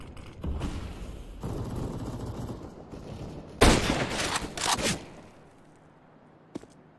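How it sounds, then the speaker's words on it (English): A flashbang grenade thrown in CS:GO, heard as one loud, harsh burst midway, preceded by rustling gear movement and followed by a fading tail and a small click. "Throwing flashbang."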